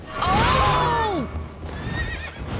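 A horse in the video game Elden Ring lets out one loud, close whinny that rises and falls over about a second, followed by quieter game ambience and faint movement.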